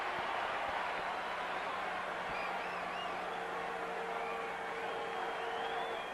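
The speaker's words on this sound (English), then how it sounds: "each strike now will elicit a louder noise from the crowd" Steady murmur of a baseball stadium crowd during a Dodgers at Giants game, a continuous distant wash of voices with faint cheering swells, no clear speech on top.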